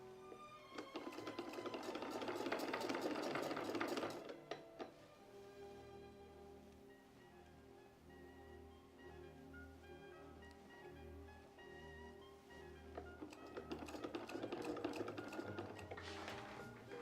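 Sewing machine stitching fabric during historical tailoring, with two bursts of rapid, whirring needle chatter at the start and end and a quieter stretch of low mechanical humming and faint clicks between them.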